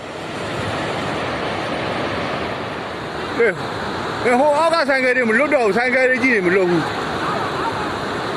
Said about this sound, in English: A powerful wave burst through an earthen dam and rushed into an active quarry